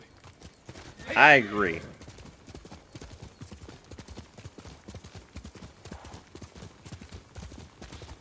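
Hooves of a horse clip-clop in a steady, close rhythm in the video game Ghost of Tsushima, with a brief spoken line from a man near the start and a possible short whinny.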